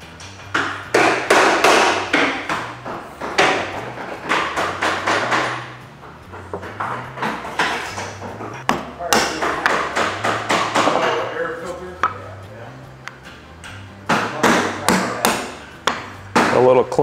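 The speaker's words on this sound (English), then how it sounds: "A little clean up here with the chisel." Steel chisel paring and tapping at the baseline of wooden dovetail tails, a run of sharp close knocks and taps in irregular bursts with quieter gaps between clusters.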